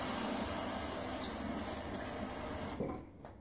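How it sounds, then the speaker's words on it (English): Running water pours and splashes close by for a few seconds at a shaving sink, then cuts off, leaving a couple of small drips and clinks. "A little splash of water."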